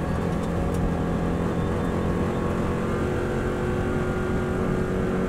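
A Subaru WRX STI running flat out in sixth gear on the Isle of Man TT road course, a steady, loud in-car drone of engine and road roar with no letup.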